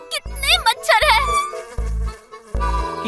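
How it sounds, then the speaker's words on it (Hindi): Mosquitoes buzz in a Hindi kids' cartoon, a loud, close droning whine in repeated bursts with wavering pitch, overlapping a character's voice at the start. "देखिए यहाँ कितने मच्छर हैं।"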